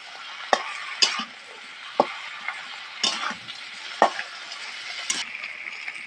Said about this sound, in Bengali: ভালো করে মশলাটা কষিয়ে নিয়েছি